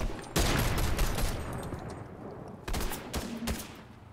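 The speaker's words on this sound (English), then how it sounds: "Now he's firing back at us." Enemy gunfire in a video game shooter, two loud bursts of rapid automatic shots with a quieter rattling stretch between, close and sharp, no talking.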